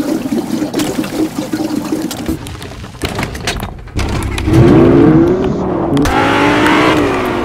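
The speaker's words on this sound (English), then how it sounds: "Ooh, fast car." A fast car in a video game speeds up with a rising engine whine, loud and close, mixed with gameplay noise and watery trickling effects.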